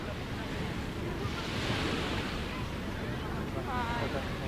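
Sea waves wash onto the shore at sunset in a continuous, fairly loud surf rush, mixed with blustery wind noise on the microphone.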